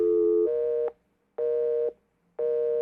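A telephone busy signal beeps three times in even, clean pulses with short silent gaps between them, loud and alone.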